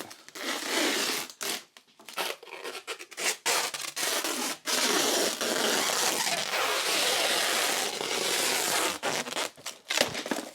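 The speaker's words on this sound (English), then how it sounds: "I've cut some aluminum for the building materials box, and now I'm just removing the burrs." Burrs are filed and rubbed off freshly cut aluminum pieces at close range, a rough, scraping rasp in repeated strokes broken by short pauses.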